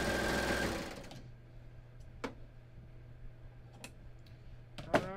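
Home sewing machine chaining off thread at the end of a seam on a skort, a loud steady whir for about a second that stops abruptly, followed by quiet faint clicks of needles and presser foot being lifted.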